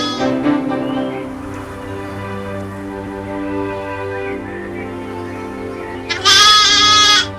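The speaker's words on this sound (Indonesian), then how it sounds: "10 anak domba sudah lahir. Ayo ke sini domba kecil." Newborn lambs bleating, a sustained wavering bleat near at hand, followed by a louder, higher cry near the end.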